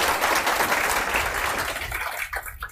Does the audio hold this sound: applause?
yes